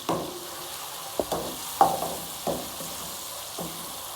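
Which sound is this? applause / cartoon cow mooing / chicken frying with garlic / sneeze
chicken frying with garlic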